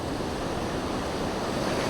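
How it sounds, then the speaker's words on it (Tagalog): Strong river current and waves rush steadily with a dense, unbroken roar of churning water, loud and close, with no voices over it. "may alon, malakas ang agos"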